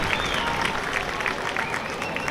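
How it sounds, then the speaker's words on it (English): A baseball crowd keeps up steady applause for the Panthers in the fifth inning, a brief burst of even clapping and crowd noise with a voice faintly in the background. "A roaring, raucous round of applause for the Panthers here in the 5th."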